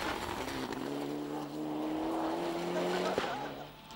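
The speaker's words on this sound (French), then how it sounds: "Gary Jennings qui lui est au volant d'une Mitsubishi Lancer Evo 9." A Mitsubishi Lancer Evo 9 rally car drives a stage of the Rally of Kerry, its engine droning loud and steady as revs rise gradually, with tire noise and a voice faintly under the engine.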